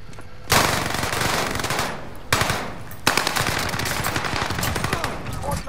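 Rapid submachine-gun bursts in a Fortune's Keep match, loud close-range automatic fire in three sustained strings with brief gaps between them.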